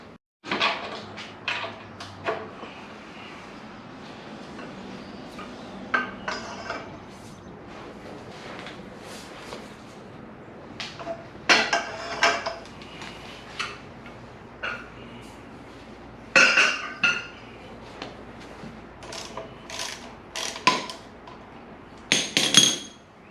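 Tools clinking and tapping while installing a Valvomax oil drain valve, scattered sharp metallic knocks and clinks in irregular bursts over a quiet background, with no talk.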